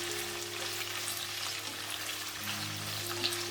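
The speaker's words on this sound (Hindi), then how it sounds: "यहाँ पे हमने स्टार्टिंग की चीज़ें पैन में डाल दी हैं और हमने यहाँ पे इन्हें कंटिन्यूसली बीच बीच में चलाते हुए भून" Sambar ingredients roasting in a pan give a soft, steady sizzle with low continuous hiss, heard close but fairly quiet and without obvious stirring strokes or voices.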